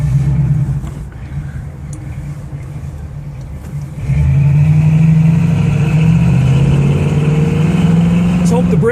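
A 1966 Chevy Nova SS with automatic transmission idles steadily with a low, even engine hum, dipping briefly and then rising to a stronger, louder idle as someone talks over it.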